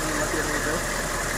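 A military jeep with a mounted machine gun in a video game, its engine running as a steady, dense mid-range drone that stays close and loud throughout.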